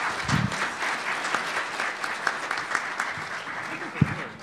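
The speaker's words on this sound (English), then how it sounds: "a round of applause for Congressman Terry and our great panel" An audience at a 2013 innovation policy summit on wireless spectrum auctions applauds Congressman Terry and a panel, with steady, moderately loud clapping and a few sharper claps standing out.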